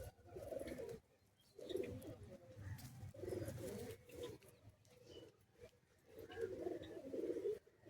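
Pigeons coo in a loft in Bagnan, a series of soft, low, throaty bursts close by with short pauses between them, while someone talks quietly over them.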